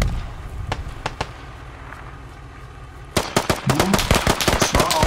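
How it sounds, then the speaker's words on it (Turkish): Gunfire in the Squad infantry video game: a few isolated shots at first, then a dense, loud volley of rapid rifle and machine-gun fire close by. "Vurdum ikisini de."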